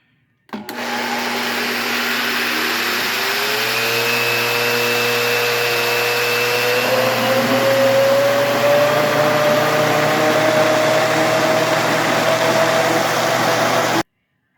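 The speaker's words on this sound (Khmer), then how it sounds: "ឡូវខ្ញុំចាប់ផ្ដើមដាក់អង្ករចូល កិនអង្ករខ្ទិះដូងហើយនឹងយីសហើយនឹង" An electric grinder motor whirs loudly and continuously, its whining pitch slowly rising as it runs for over ten seconds before stopping.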